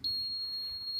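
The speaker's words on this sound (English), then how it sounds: "sound like this from the ohm meter, and that is telling me that I have good continuity" A steady, high electronic continuity beep from an ohm meter used by an HVAC technician testing connections; one unbroken tone that holds at even loudness for about a second, with no talking.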